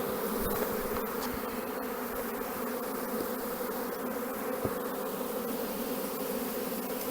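Honeybees buzz steadily during swarm handling, a dense continuous drone of many insects close by with occasional louder passes, no voices.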